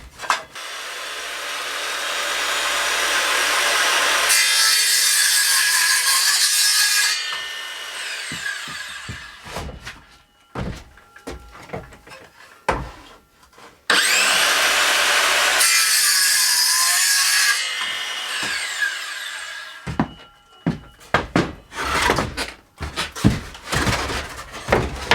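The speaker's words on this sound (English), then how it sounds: "So now I'm just cutting through the other side, just make sure we've got 2 halves." Circular saw cutting through pallet wood: two long, loud bursts of whining, rasping cutting, each followed by a stretch of clattering knocks and handling noise as the blade spins down and the boards shift.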